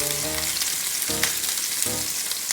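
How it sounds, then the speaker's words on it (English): Lamb and sausage meatballs browning in batches in a hot Lodge cast iron skillet, a strong close sizzle with short tonal scraping scrapes, no talk. "We're gonna brown them up in batches, probably 2 or 3 batches, and then slowly slide them into our sauce."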